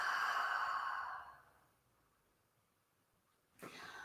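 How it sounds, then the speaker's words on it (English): A deep exhale during yoga breathing, a soft close breathy sigh that fades over about a second into quiet, followed by a brief new inhaled breath. "One more deep breath in. And exhale, let it go."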